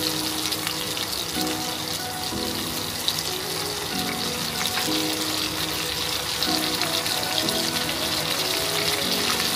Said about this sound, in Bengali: এবার আমরা এর ভেতরে দিচ্ছি একটা মিডিয়াম সাইজের পেঁয়াজ বাটা।